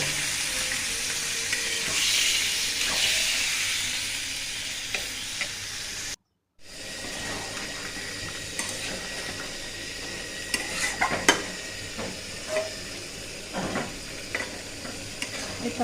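Spice masala sizzles and fries in oil in a pan as it is stirred, then pieces of skin are added, with a loud continuous hiss, a brief break, and scraping and clinking of a utensil against the pan.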